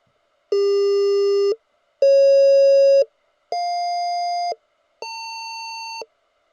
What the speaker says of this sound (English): Let's call this Morse code.